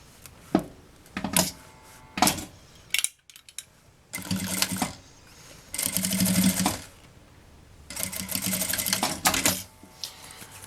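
A sewing machine stitches folded bias binding along the bottom of a handmade bag in several loud motor bursts, with short pauses between runs.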